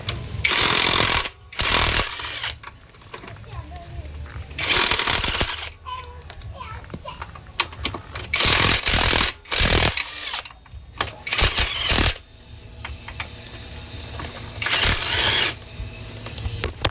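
An impact wrench loosening the stock exhaust pipe bolts on a Yamaha Aerox V1 scooter, firing in several loud hammering bursts of a second or two each, separated by pauses with quieter clinks and background noise.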